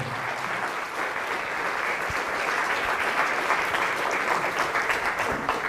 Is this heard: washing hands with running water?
no